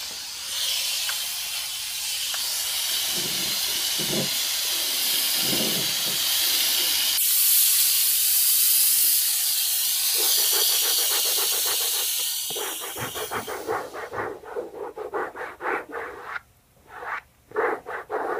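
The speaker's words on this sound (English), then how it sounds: "I can use the scraper tool with the steam and it just takes it off like butter." HomeRight SteamMachine Plus steam cleaner with its scraper tool working on upholstery, a loud continuous hiss of steam that later breaks into rapid rhythmic scraping strokes and sputtering bursts, close up.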